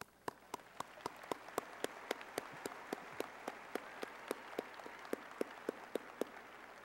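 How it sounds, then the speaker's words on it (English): At a university business and economics commencement, a large audience applauds with a soft, distant wash of clapping, with crisp individual claps popping out close by in an even rhythm. "Applause."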